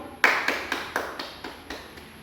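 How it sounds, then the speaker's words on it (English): A few people clap sparsely in a short, uneven round of applause after a class presentation, the claps sharp, close and fading quickly, with no talking. "Now, a round of applause,"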